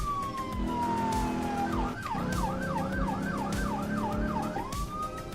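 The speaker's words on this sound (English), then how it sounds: "Let's get the siren off. It's too loud." Police car siren in a driving video game, loud and continuous, sweeping in a long wail then switching to a rapid yelp pattern before returning to a wail, over a steady engine drone.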